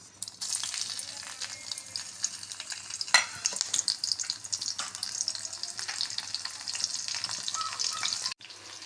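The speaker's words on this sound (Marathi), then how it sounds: "फोडणीसाठी सर्वप्रथम इथे मी चार मिरच्या कट करून घेतलेल्या आहेत हे यामध्ये घालत आहे" Chopped green chillies sizzle in hot tempering oil for a mixed vegetable bhaji, a steady close, loud frying hiss with occasional stirring clatter, ending abruptly.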